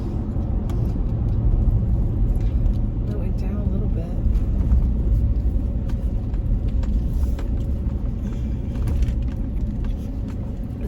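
A car engine idles at a gas station on a hot morning, a steady low rumble running throughout beneath people talking nearby.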